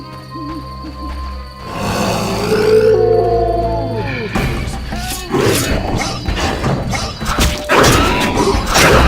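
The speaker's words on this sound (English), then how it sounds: "It's those dogs. Those hellhounds." Hellhounds in a video game let out drawn-out, wavering howls amid loud thuds and crashing combat noise, with dense rumbling game sound throughout.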